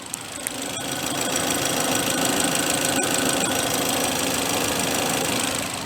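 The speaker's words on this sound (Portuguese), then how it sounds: "Agora o motor é funcionando." A repaired Citroën C3 Aircross engine runs at a steady idle, a continuous close mechanical hum with faint ticking and no talk.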